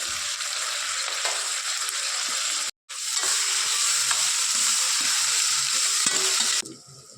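Green chili, onion and tomato fry in a pan with cumin and curry leaves, a steady loud sizzle with stirring scrapes; the sound drops out briefly partway, then quiets near the end.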